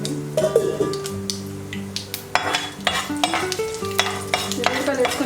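Garlic fries in hot oil with a tempering of cumin, chana dal and mustard seeds, sizzling under busy stirring and clinks of a spoon on the pan, with music playing in the background.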